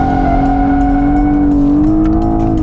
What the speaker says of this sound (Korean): 이 차는 얼마든지 엑셀 컨트롤을 통해서 꼬리의 미끄러짐 양을 조절할 수가 있게 되는 거죠